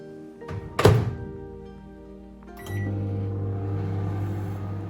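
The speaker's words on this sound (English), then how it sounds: "let's get these into the microwave." Jacket potatoes going into a microwave oven: a sharp thunk as the door is handled, a short pause, then a click and the steady low hum of the oven running.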